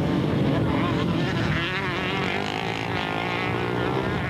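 Honda motorcycles racing in a 1998 Super Series Clubman race, a broad steady engine roar with a wavering pitch as bikes pass, continuous and fairly loud throughout, with a commentator's voice talking over it.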